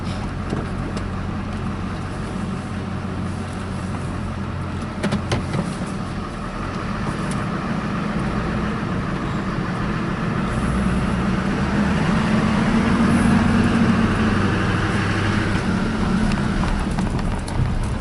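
A 2002 Chevy 2500HD pickup truck drives along with a fresh idler arm installed. A steady, continuous engine and road rumble is heard from inside the cab, swelling slightly partway through.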